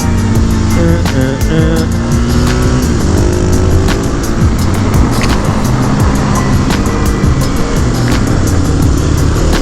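Husqvarna 701 supermoto single-cylinder motorcycle ridden hard and downshifting into a corner, a loud continuous engine roar with pitch steps and sharp popping crackles as revs rise and fall.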